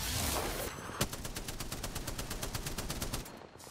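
The Spitfire machine gun fires a rapid, evenly spaced burst in an online shooter game, about twenty close, sharp shots that stop abruptly after roughly two and a half seconds, with no talk over them.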